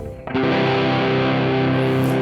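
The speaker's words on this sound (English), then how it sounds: "With distortion it still sounds great" Distorted electric guitar, tuned to drop D for a blues rock shuffle, strikes one loud chord after a short quiet lead-in and lets it ring steadily to the end, with no talking.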